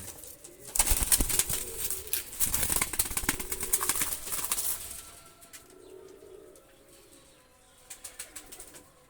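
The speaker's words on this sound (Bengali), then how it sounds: "নটটা হোয়াইট গোল্ডেন কবুতার আর মাদিটা তাজবিরলা গোল্ডেন কবুতার ছেড়ে দেখাচ্ছে" Pakistani high-flyer golden pigeons released, a loud burst of wing flapping and clattering close by for several seconds, then quieter soft cooing and faint flutters.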